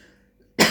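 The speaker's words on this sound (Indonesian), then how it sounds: "Batuk." A single short, abrupt cough, close and fairly loud, bursting out after a near-silent pause and cut off at the end.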